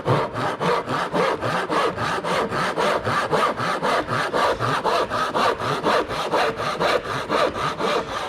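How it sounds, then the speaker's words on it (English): A hand saw cuts wood for a T halving joint with steady, even back-and-forth strokes, close and loud, the rasping rhythm continuing without pause or speech. "you're cutting away this section down to your middle point that you've marked out"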